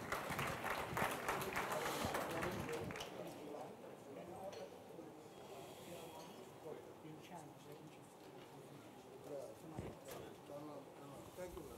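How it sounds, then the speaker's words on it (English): Audience applause at a high-level jobs forum in Kigali, a sustained crowd clapping that starts strong and gradually thins out, with scattered louder claps near the end. "Let's give him a round of applause again."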